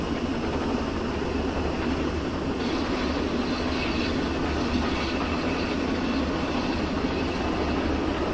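A streamlined Duchess of Hamilton steam locomotive in Train Simulator 2016 on the Settle and Carlisle line, running with a steady, loud, continuous rumble and rail roar and no voices.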